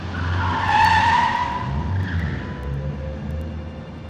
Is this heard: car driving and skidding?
yes